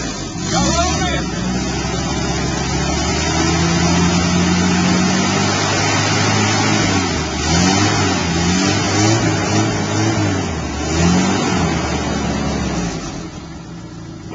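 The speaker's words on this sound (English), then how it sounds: "Start idling and everything there." A 1985 Jeep engine idles after a cold start, giving a steady, continuous mid-low rumble with slight revs. Voices talk over it at times.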